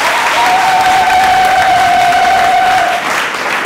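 Loud, sustained applause from a crowd of guests fills the room at a military civil wedding ceremony, steady throughout with a faint tonal hum beneath it.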